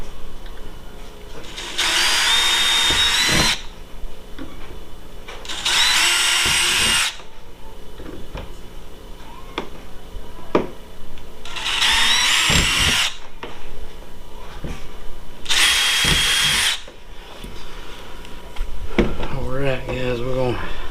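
A power drill drives screws into a Perception Outlaw 11.5 kayak hull while an anchor trolley and deck hatch are installed, with four separate bursts of whirring a few seconds apart and handling noises and a voice in the gaps.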